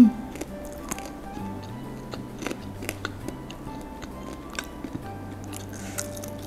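Spicy fried beef bones are chewed up close, with sharp, irregular crunches and small bites scattered over a steady low background hum.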